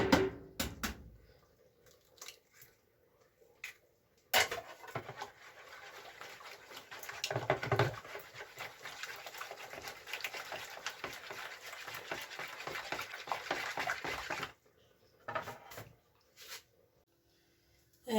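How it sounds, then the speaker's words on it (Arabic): An egg being beaten in a bowl for a stale-bread fry, heard as a quiet, steady run of wet whisking and scraping strokes between a few soft knocks at the start and end. "صافي غادي نهرس هاد البيضه هادي"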